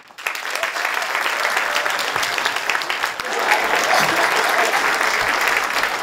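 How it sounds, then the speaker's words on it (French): A gala audience applauds a comedian as he is introduced, with dense, sustained clapping from a large crowd that swells slightly partway through and continues steadily to the end. "je vous demanderai d'applaudir chaleureusement Reda Saoui"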